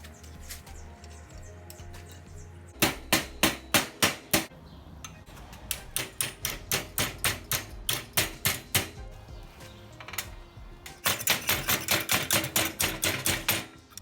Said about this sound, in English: Start by hammering it flat